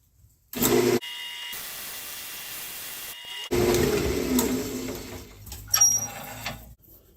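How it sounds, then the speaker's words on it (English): A wooden segmented bowl is sanded flat, with loud bursts of power-sander hiss and grinding separated by a quieter steady whir, heard up close with no talking. "let's go ahead and sand this flat, and then we'll add the next layer"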